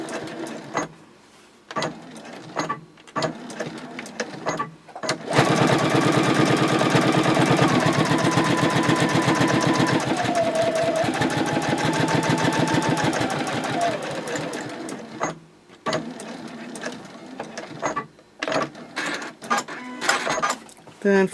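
A sewing machine top stitches fabric at a 3.0 stitch length, running in one long fast steady burst of rapid needle clatter after a few short starts and stops, with a voice speaking in the clip.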